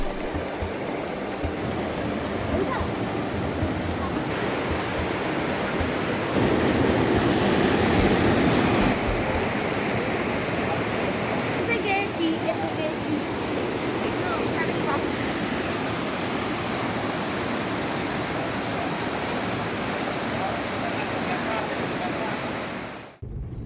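A river in hill country rushes past its bank in a steady, loud, broad wash of flowing water that holds constant before cutting off at the end.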